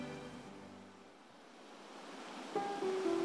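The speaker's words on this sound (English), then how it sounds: "With their whispering waters flowing all year round" Mountain stream water at Dharma Drum Mountain flows in a soft, steady wash, faint at first and swelling slightly louder toward the end, with a few brief tonal notes near the close.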